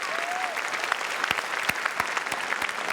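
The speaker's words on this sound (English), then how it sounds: "Give yourselves a quick round of applause" A studio audience at a televised Q&A panel in an election-season broadcast claps steadily for a few seconds, a full, even wash of applause with a few sharper individual claps standing out.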